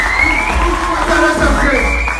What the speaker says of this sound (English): give yourselves a round of applause. Make some noise.